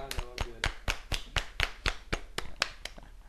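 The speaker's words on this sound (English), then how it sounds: "Let's give him a round of applause here" Small applause, about a dozen evenly spaced, crisp claps, close and fairly quiet, with no voices over them.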